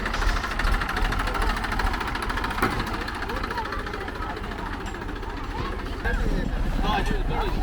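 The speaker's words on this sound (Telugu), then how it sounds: "ఇప్పుడే మేమందరం ఎక్కవలసిన ట్రాక్టర్ కూడా వచ్చింది" A diesel tractor engine chugs steadily at idle, close and rumbling throughout, while several people talk over it before a trip on a rocky forest road.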